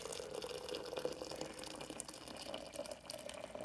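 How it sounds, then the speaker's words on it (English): Boiling water pours from a kettle over coffee grounds in a roughly one-liter brewer, a steady, soft trickling and splashing stream that runs continuously at low level with no talk. "start by pouring in some boiling water"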